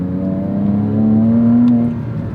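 A Porsche Cayman S (987) engine hums steadily at low revs in second gear, a smooth continuous drone that swells slightly midway without ever opening up.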